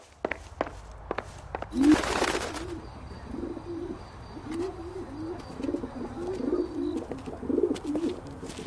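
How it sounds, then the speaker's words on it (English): Carrier pigeon in a PS4 video game coos in a steady run of soft, low, repeated warbling calls, with a few clicks and a brief noisy burst near the start, moderately close and alone. "Drunk and in command of a carrier pigeon."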